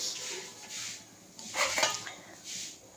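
A metal lid clatters onto a cooking pot of mung dal, with a few short clinks and one louder knock of metal against metal, close and brief in a quiet kitchen.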